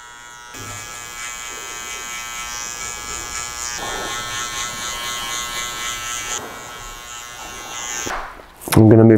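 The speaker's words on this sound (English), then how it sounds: "Just again, the same scoop of motion, just to make sure we don't leave a line with these trimmers" Electric hair trimmers buzz steadily while cutting short sides on a classic haircut for silver hair, a close, continuous whine that shifts in pitch as the blades move through the hair, ending with a brief handling clatter.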